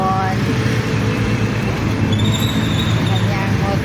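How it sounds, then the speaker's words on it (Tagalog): Steady engine rumble and road noise from a moving motorcycle, continuous and close throughout, with wind rushing over it. "magra-rides po kami ng bagong motor ni Bonbon."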